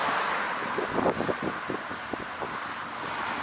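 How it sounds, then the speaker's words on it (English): Gusty wind buffeting the microphone of a Sony AS300 action camera outdoors, a steady rough roar with a few stronger bursts, loud and close with no talking. "We're getting quite a bit of wind right through here."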